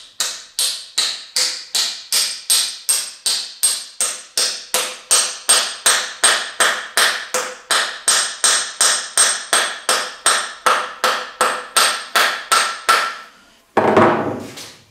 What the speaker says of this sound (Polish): Wprowadzamy klin do środka i wbijamy go młotkiem.